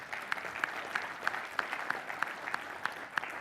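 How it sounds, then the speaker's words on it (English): Audience at a sales training talk giving a round of applause, a faint, distant wash of clapping with a steady rhythmic pulse of louder claps running through it. "can everybody give Charles a round of applause on my behalf?"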